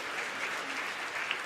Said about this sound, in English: Give them one more applause, ladies and gentlemen.